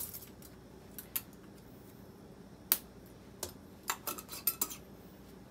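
Utensil stirring prawns in coconut milk in a pan, heard as faint scattered clicks and scrapes of metal against the pan at an irregular pace over quiet background noise.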